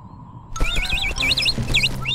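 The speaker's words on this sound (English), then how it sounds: "Upin and Ipin find an injured bird in the bush" A cartoon bird in Upin & Ipin gives quick, high warbling chirps in short repeated bursts over a low background hum and a few soft knocks.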